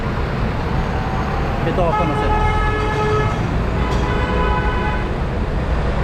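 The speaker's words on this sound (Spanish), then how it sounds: "Y esto es ya la bulla, el ruido, el tráfico" Busy street traffic near the market in Valparaíso, Chile: a steady roar of passing vehicles with honks and a brief siren-like tone, while a person talks over the din.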